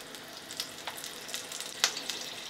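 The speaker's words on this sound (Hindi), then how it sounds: "तेल जैसे ही हमारा गर्म हो जाए, हम इसमें एक एक करके पकौड़े तलते रहेंगे।" Pakoras deep-fry in hot oil in a kadai over a medium flame, a fairly quiet bubbling sizzle broken by a few sharp crackling bursts. No one speaks.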